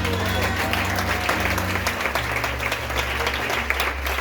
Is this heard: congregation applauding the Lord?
yes